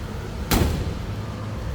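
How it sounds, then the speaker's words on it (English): A 1963 Mercury Comet's car door shuts with a single solid thump, heard once near the start and close by, set against steady low background rumble. "Door closes nicely."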